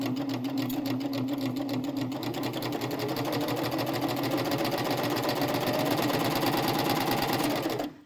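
A sewing machine runs fast and steadily close by, stitching a long fabric strip for a drawstring backpack strap with a dense, even whir, then stops abruptly at the end.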